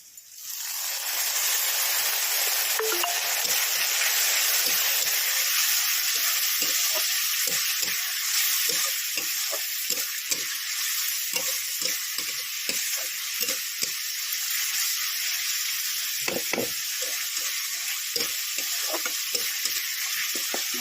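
Onion with ginger-garlic paste sizzles loudly in a pan for chicken curry, a dense continuous frying hiss with frequent small pops and crackles throughout, no voices.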